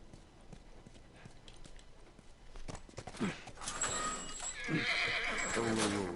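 A horse in The Last of Us video game whinnies loudly and close, with steady clip-clopping hoofbeats running beneath it and building toward the end.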